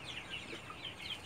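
Chickens cluck faintly in repeated short calls at a village poultry and duck centre, with no talk.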